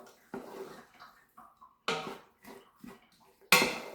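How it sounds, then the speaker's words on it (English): A spoon stirs chili ingredients and chopped onions inside an Instant Pot, making a handful of separate scraping clatters spaced irregularly, close and fairly loud between quiet gaps. "I'm just going to give it a quick stir."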